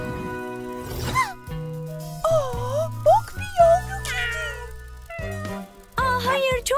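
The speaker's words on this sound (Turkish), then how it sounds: "Bak bir yavru kedi." A kitten meows repeatedly in a cartoon scene, short high wavering cries recurring over several seconds amid bright musical tones and other animated sounds, with a child-like voice briefly audible.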